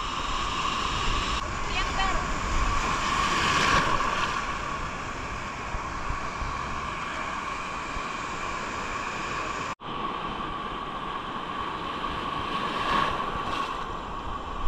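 Surf rolls onto the sand at Bombas beach, a steady broad wash of waves with wind noise, while voices talk nearby.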